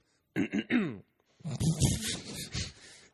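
A person clears their throat with a few harsh, raspy bursts up close, followed by a longer rough, gravelly stretch.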